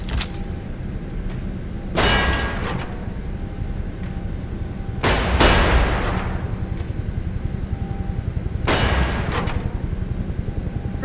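Three separate sharp gunshots ring out in an Area 51 video game shooting contest, spaced a few seconds apart and fairly loud, each with a short ringing tail over a low, steady background hum.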